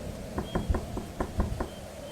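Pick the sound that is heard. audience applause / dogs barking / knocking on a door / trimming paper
knocking on a door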